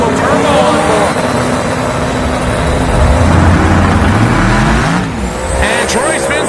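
A 1963 Dart drag car, nicknamed the lawn dart, with a small-block LS engine and big single turbo, launches at a drag strip with loud, sustained engine roar and tire spin, alongside live commentary.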